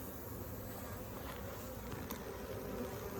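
Honeybees fan at the hive entrance, a faint, steady close-up buzzing drone with no pauses.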